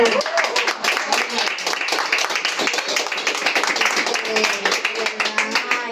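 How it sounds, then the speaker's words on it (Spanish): A church congregation claps steadily together, fast and loud, with a few voices calling out over the clapping. "Un aplauso al pastor."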